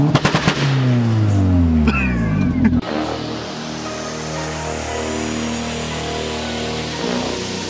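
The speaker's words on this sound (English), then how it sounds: "The car goes bang bang bang like that." A rapid burst of sharp two-step anti-lag exhaust bangs at the rev limiter pops in quick succession, followed by a loud engine revving and settling into a steady idle.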